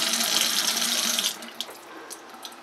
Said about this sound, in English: The running water.